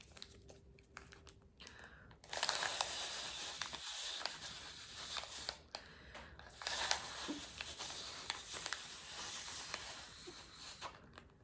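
A folded paper origami balloon crinkling as it is blown up and gently pulled apart, close, soft papery rustles and crackles in bursts with short pauses between.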